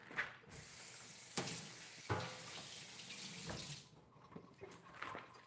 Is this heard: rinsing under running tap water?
yes